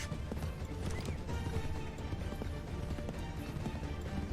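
Horse hooves gallop in Assassin's Creed III Remastered in a steady, fast clip-clop rhythm. The animal is close and loud, and brief whinnies and forest game ambience sit in the background.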